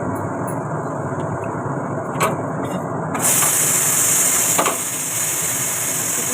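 A continuous hiss of escaping steam from a pressure cooker cooking chickpeas swells suddenly louder partway through and keeps rushing steadily.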